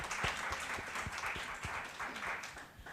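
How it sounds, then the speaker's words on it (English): Applause from an audience for a panel of women entrepreneurs, a short burst of clapping heard somewhat distant and soft, with low thumps mixed in. "A round of applause for them."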